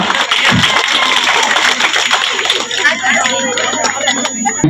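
A crowd claps loudly for a few seconds at a traditional tribal Diwali festival, mixed with chatter and voices, then the clapping thins out as talking continues.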